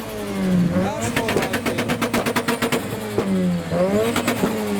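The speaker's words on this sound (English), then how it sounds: "The Civic's still doing its revs." A Honda Civic at a modified car show revs its engine repeatedly, the pitch climbing and falling in loud rising sweeps with a rapid pulsing rasp between them, close by and alone.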